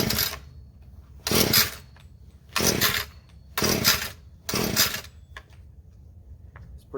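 An Echo SRM-230 string trimmer engine is pull-started, with five loud, short ratcheting bursts from the recoil starter separated by pauses, close by and alone.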